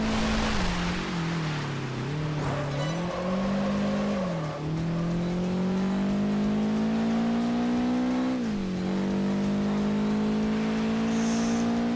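A race car engine in the video game Project Gotham Racing 4 drones loudly and continuously through a hot lap, its pitch sagging and rising with gear changes and corners.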